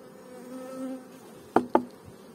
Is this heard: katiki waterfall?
no